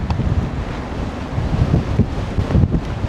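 Strong wind roars steadily across the microphone during a bicycle ride in Vietnam, a loud, dense low rumble that gusts and surges without a break, with no voices over it.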